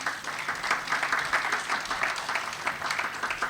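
Steady crowd applause for a man being called on stage at a Utech event, a dense even patter of many hands that holds at moderate level with no talk over it.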